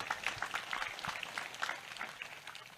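Faint, distant audience applause for a deputy regent at a large outdoor religious gathering, scattered clapping that fades slightly toward the end.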